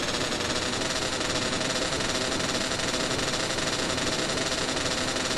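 A motorcycle engine in GTA San Andreas drones loud and unbroken at a high, buzzing pitch, holding a constant revving tone as it speeds along.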